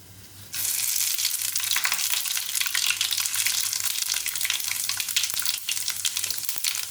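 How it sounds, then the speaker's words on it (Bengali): Panch phoron spices dropped into hot oil after dried red chilies for khichuri, an abrupt onset of loud dense sizzling and crackling that continues steadily to the end. "শুকনো লঙ্কাটা হয়ে গেছে, এবারে আমি 5 ফোড়নটা দিলাম তেলে।"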